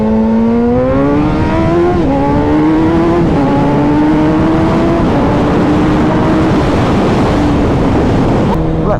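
A Suzuki Hayabusa motorcycle accelerates hard in first gear on a freeway, its engine rising steadily in pitch and staying loud and close under heavy wind rush, with a brief shift or pause near the end.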